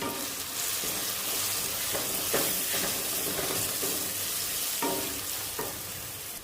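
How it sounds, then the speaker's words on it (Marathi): Asafoetida, turmeric and red chilli powder sautéing with curry leaves in a pan for sambar, giving a continuous close sizzle broken by repeated scrapes of stirring. "हिंग, हळद आणि लाल तिखट मसाला, तर हे आपल्याला छान असं परतवून घ्यायचं आहे."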